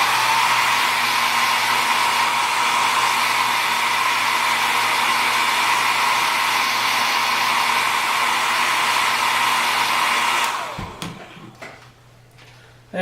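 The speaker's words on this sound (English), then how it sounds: "I'm going to turn on the hair dryer real quick." A hair dryer blowing on fresh paint on a carved wooden Uncle Sam bolo tie, a steady loud whirring airflow that runs for about ten seconds, then cuts off and winds down to quiet.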